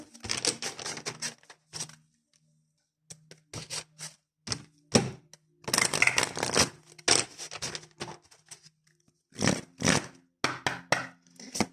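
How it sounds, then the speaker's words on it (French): A deck of oracle cards is shuffled by hand in irregular bursts of dry, papery riffling and soft slaps, with short pauses between flurries, close and fairly quiet. "on va faire le tirage avec l'oracle de l'âme intuitive de Lisa Williams"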